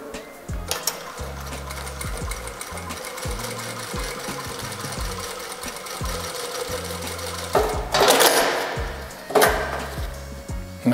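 A JACK A8 industrial sewing machine stitches through six layers of varnish and two of stabilizer with ordinary thread and a fine needle, running in a steady rapid mechanical rhythm with a couple of louder bursts near the end.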